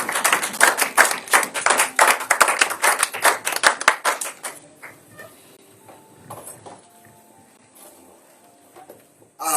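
Church congregation applauding during a Sunday service, a loud burst of many hands clapping for several seconds that thins out to a few scattered claps and faint room sounds.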